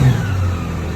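A 2018 Honda Goldwing DCT motorcycle with its check engine light on revs briefly, a steady close-up engine roar held through a short burst.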